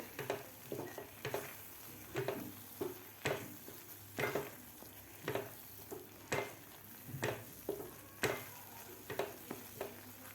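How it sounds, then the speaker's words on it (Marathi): Spices with coriander powder sauté in a pan for a dhaba-style kaju masala, a steady soft sizzle broken by regular scraping strokes of a spatula roughly every second, close and fairly quiet. "आता व्यवस्थित हे मसालेसुद्धा आपल्याला व्यवस्थित परतून घ्यायचे आहेत"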